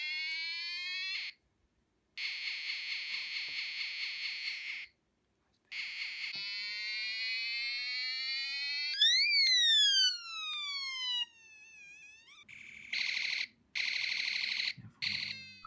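An electronic 16-sound box kit built from a PCB steps through its loud synthetic tones: pulsing alarm-like beeps, a sustained buzzing tone, rising and falling siren sweeps, then choppy bursts, separated by short silences.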